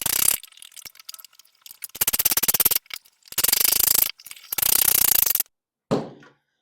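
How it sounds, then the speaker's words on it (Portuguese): Screws being driven in by hand to fix a servo into a wooden model airplane, heard as close mechanical ratcheting bursts of roughly a second each, separated by short pauses, with a brief thunk at the end. "você pode empurrar aqui contra a própria madeira, que vai deixar ele alinhado, e aperta os parafusos"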